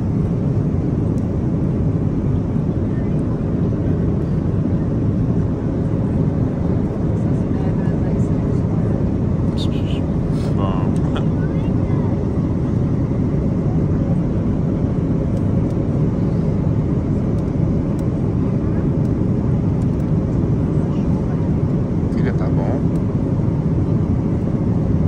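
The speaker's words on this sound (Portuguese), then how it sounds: "a Mabel durante o voo" Steady loud airplane cabin roar during a flight with a pet in a carrier, a broad continuous engine and air rush filling the space without letting up.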